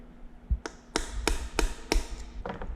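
A series of sharp metallic taps, five or six evenly spaced knocks, rings out as an oil restrictor is driven into a Nissan GT-R RB26 cylinder head, close and clear with no talking.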